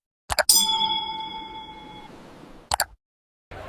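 A single bright bell ding rings out and slowly fades, framed by a few short clicks, clear and close against near silence.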